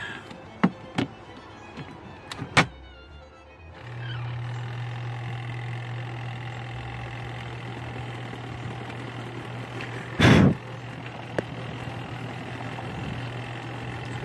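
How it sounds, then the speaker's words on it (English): A used Costway mini washing machine starts its spin cycle with a few sharp taps and clunks, then settles into a steady low motor hum. One loud thump comes partway through, and no one speaks. "It is spinning faster,"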